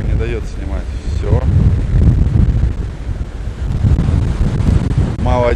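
Strong wind buffeting the microphone on a stormy beach at Anapa during a winter Epiphany swim, a loud continuous roar and rumble throughout, with surf beneath and brief voices at the start and end.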